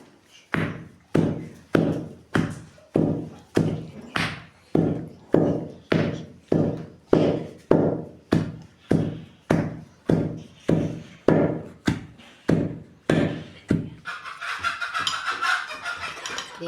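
Curry leaves and dried chillies pounded by hand for spicy jackfruit seed aggala: about twenty heavy, evenly spaced thuds in a steady rhythm, close and loud, then a brief stretch of softer rustling grind at the end.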